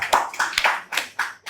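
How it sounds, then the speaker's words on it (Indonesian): A small audience applauds stand-up comedian Maul with a short run of close, distinct handclaps at a loose, uneven rhythm, with no talk. "tepuk tangan dulu buat Maul"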